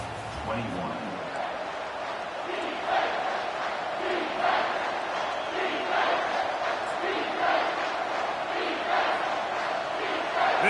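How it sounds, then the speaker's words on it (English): A college football stadium crowd at a Kentucky versus South Carolina game swells into a sustained roar at the end of the third quarter, a continuous wash of cheering and shouting with a commentator talking over it. "This crowd rising up, sensing that its defense needs some help."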